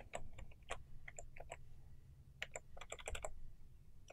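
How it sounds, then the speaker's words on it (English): Loud, close computer keyboard typing in irregular bursts of clacky keystrokes, with brief pauses between flurries and no talking. "sorry my keyboard's so loud"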